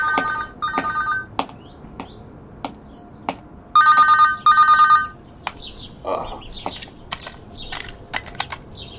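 A telephone bell rings in repeated loud, close bursts, two early rings and then a stronger paired ring, with scattered clicks and brief knocks between them in an indoor drama scene.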